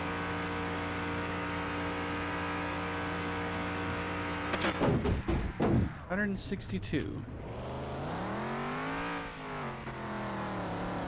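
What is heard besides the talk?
DC Typhoon car engine revving and driving in a video game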